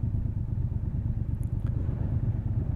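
Motorcycle riding through a road junction on an adventure ride, a close low engine drone with steady throbbing rumble and faint wind, heard alone.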